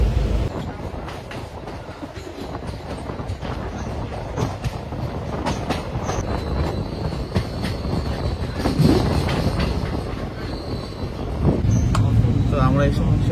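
The Kanchanjunga Express sleeper-class train runs toward New Farakka Junction with a loud, steady rumble and clickety-clack of wheels, brief squeals, and voices talking over the din inside the coach.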